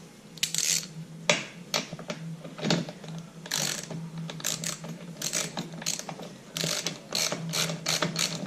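A ratchet wrench clicks in rapid bursts while tightening a part on a string trimmer during maintenance, close and fairly quiet with brief pauses between runs of pawl clicks, and no talk.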